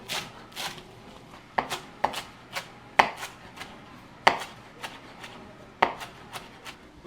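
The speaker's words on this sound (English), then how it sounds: "So I'm gonna chop up a little bit of cilantro" Cilantro being chopped with a knife on a board, a run of crisp, uneven taps with several sharper louder strikes, close up and without talk.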